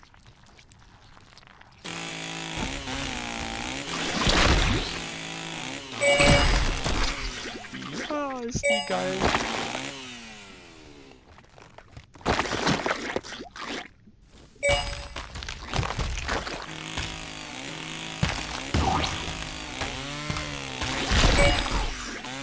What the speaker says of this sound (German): die Kettensäge ist echt cool